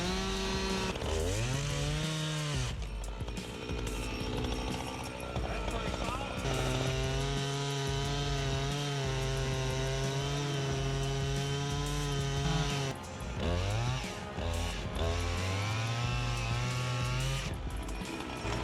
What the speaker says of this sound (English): The operator starts by cutting the log into smaller pieces with precision